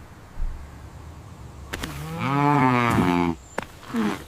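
A cartoon cow gives one drawn-out moo on a farm, rising to full loudness and then ending. A couple of sharp clicks come before and after it, and a short lower call follows near the end.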